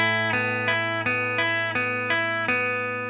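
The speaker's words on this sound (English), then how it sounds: "your bass note is an A and it sounds like this." Guitar chord pattern from a song played over an A bass note: a steady run of roughly seven crisp strummed chords, evenly spaced and ringing, close and clear, each hit decaying slightly before the next.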